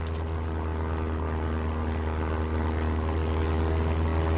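Airplane propeller engine in the Roblox game Mad City, a steady loud droning hum with strong low harmonics running continuously without a break.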